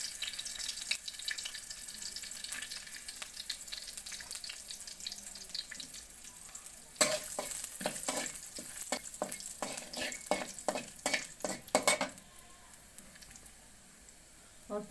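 Cardamom, cinnamon and bay leaf fry in hot oil in a wok over a clay stove, a soft continuous sizzle broken by a burst of sharp scraping stirs in the middle.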